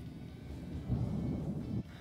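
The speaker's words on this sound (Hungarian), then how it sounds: "Hatalmas vihar van odakint." Distant thunder from a storm outdoors, a low continuous rumble that swells around the middle and then drops off, heard on its own with no talk.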